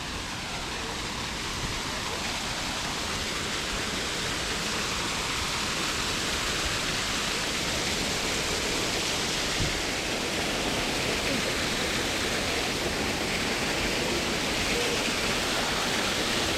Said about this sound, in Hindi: अच्छा झरना था, काफ़ी तेज़ रफ्तार से पानी आ रहा था।